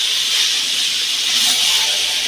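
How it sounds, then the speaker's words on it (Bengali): Meat fries with spices in a pan, giving off a loud, steady hiss of sizzling that runs unbroken without any talk. "মাংস দিয়ে দিয়ে ভালো করে কষিয়ে নেব।"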